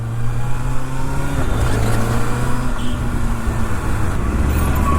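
A 2024 Kawasaki ZX6R supersport motorcycle engine running and revving, a loud close droning hum with engine pitch shifting up and down over several seconds, with no voices.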